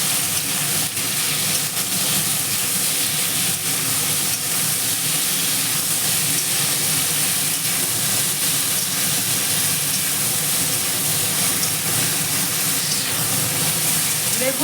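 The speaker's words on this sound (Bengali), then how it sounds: "চিংড়ি মাছটা হালকা ভাজা ভাজা হয়ে গেছে" A loud, unbroken hiss of prawns lightly frying in a pan for bottle gourd prawn curry carries on steadily throughout, with no pauses.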